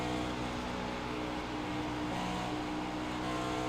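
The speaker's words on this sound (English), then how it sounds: "You can hear the throttle play there." Race car engine in a sim racing game at Darlington, a constant dense roar with throttle rising and easing, steady and fairly near, no talk over it.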